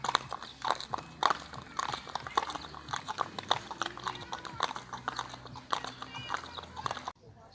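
Horses clip-clop at a walk near a lakeside campground, a steady run of hoof knocks close by with a brief whinny, while people talk over it.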